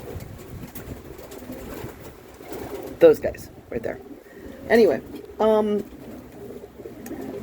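Pigeons cooing indoors among pet birds such as cockatoos and cockatiels, several short throaty coos heard at moderate distance while a person talks over them.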